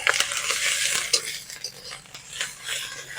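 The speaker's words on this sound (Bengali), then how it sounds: "আদা রসুনটাকেও ভালো করে ভেজে নেব।" Ginger-garlic paste fries in a pan with onions, a soft sizzle broken by quick scraping and clinking as a spatula stirs it, close and without talk.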